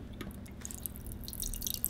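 Water drips steadily through a newly changed water filter in a kitchen, a soft irregular patter of drops that grows slightly busier toward the end, with no talking.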